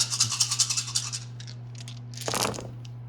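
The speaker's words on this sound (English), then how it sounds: "We're not rolling well on the red dice" Dice rattling and clattering in a rapid scratchy burst during a tabletop war game, followed by a brief second tumble near the end, fairly faint over a low steady hum.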